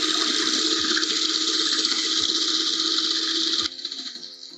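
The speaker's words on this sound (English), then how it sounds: "And then we'll whisk." Eggs and superfine sugar are whisked in a large bowl with a steady, close, hissing whir that runs for several seconds and then stops abruptly.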